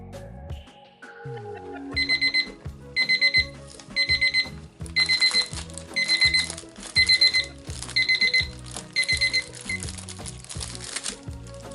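A kitchen timer alarm sounds after resin is mixed for a cheese-knife handle project, loud repeated bursts of electronic beeping in a steady rhythm, preceded by a brief tone, with no talking.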